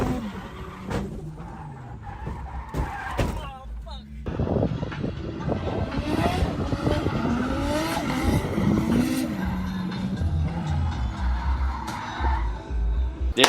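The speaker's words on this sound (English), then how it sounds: "Did a J. Scott drift, just clip the rear, straight into the tyres" A Nissan R32 Skyline drifting and clipping its rear straight into a tyre wall: loud, sustained engine roar and screeching tyre squeal with rising and falling pitch, plus a brief knock, under voices talking over the action.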